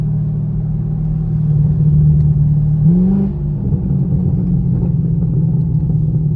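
A Chevrolet Camaro SS with a failed differential gives a loud, close, steady low rumble from its engine, with a brief rise in pitch around the middle.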